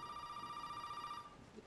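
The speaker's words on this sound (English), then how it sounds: "The phone's ringing." A telephone rings in Resident Evil 7 with a steady electronic tone that holds for just over a second, then cuts off, leaving quiet room ambience.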